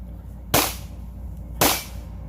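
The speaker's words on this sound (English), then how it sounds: "So here's another session at the firing range, and man, I'm really enjoying the accuracy of this one." Tanfoglio Stock 3 Extreme pistol fired at a firing range, two sharp loud shots about a second apart, each with a short decaying tail, close and clear over a low background hum.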